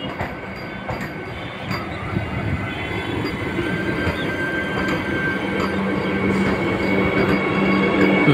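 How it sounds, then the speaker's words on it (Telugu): The Vande Bharat Express, a Secunderabad to Visakhapatnam train, pulling into Madhira station with a loud rolling rumble, clattering wheels and a thin squeal, growing steadily louder, with no voices. "వందే భారత్ ట్రైన్ మధిర చేరుకుంది."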